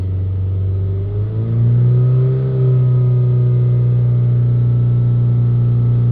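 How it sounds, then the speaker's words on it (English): A Peugeot or Citroën diesel van engine with a worn particle filter idles, then revs up and holds at a steady higher hum, loud and close with no talking. "We're going to hold the revs up"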